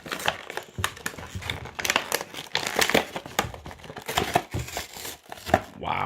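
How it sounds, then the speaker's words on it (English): A child rips open parcel packaging, producing close, irregular bursts of crinkling and tearing paper or plastic, with an adult's voice mixed in among the ripping. "Just rip it."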